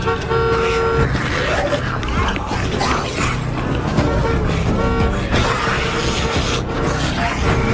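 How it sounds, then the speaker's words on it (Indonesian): A bus horn honks amid a dense, loud, continuous wash of engine and street noise with layered tonal blasts, no clear pauses. "Kemudian Pak Choi membunyikan klakson bus agar para jombai-jombai teralihkan."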